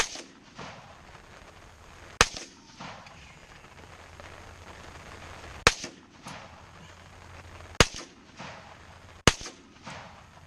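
Four .30 caliber rifle gunshots at the range, each a sharp, loud crack spaced a few seconds apart, followed by a short echo and faint background noise between shots.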